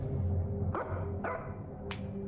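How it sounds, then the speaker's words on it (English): Dog barking inside a horror video game, a few short separate barks over a droning ambient background, moderately close. "What are you barking at?"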